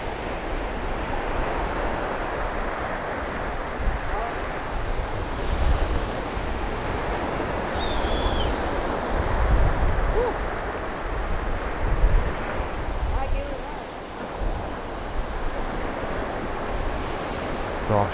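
Sea waves wash steadily onto the beach at a Mui Ne, Vietnam resort, a continuous broad roar with gentle surges, mixed with wind buffeting the microphone and no talking.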